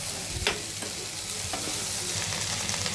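Vegetables fry in a pan with tomato sauce and soy sauce, a dense continuous sizzle close by with a few faint stirring clicks, with no talking.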